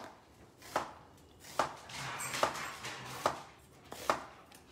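A very sharp knife slices meat into very thin pieces on a board, five distinct chops landing about once every second, close and moderately loud over a quiet kitchen background.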